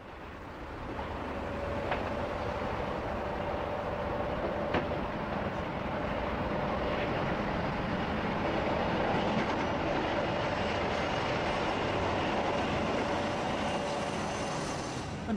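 A British Rail Class 47 diesel locomotive pulls away from Eastleigh, a steady loud engine roar and rumble with a faint tonal whine throughout, with no talk over it.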